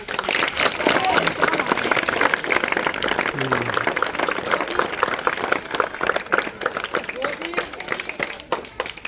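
Loud, sustained applause from an audience at a student awards ceremony, dense clapping filling the whole stretch with a voice briefly audible beneath it.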